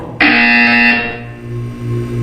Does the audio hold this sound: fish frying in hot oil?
no